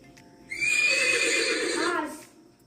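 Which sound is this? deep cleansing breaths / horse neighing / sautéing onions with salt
horse neighing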